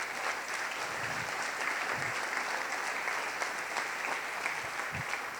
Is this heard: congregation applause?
yes